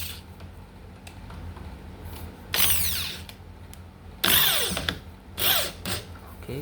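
A power drill drives screws into a two-door wardrobe panel during flat-pack assembly, with several short whirring bursts that rise in pitch and then stop, separated by quiet pauses.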